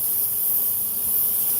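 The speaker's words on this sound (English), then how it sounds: "all these bees that are flying around are going to ball back up somewhere up close up around here" A swarm of killer bees flying around outdoors makes a dense, continuous buzzing hum, steady and fairly close, with no voices.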